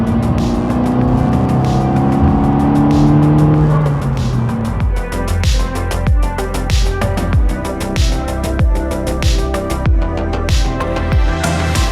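A turbocharged car fitted with a GFB DV+ diverter valve accelerates hard on a road past a lorry, the engine loud and close, with a rising pitch early on and then repeated sharp pulses of boost and gear changes.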